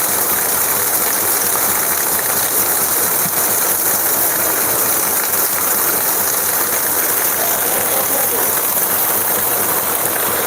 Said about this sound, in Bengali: এত বৃষ্টি পড়ছে যে এখানে ঘরের ভিতরে কিন্তু পানি ঢুকে যাচ্ছে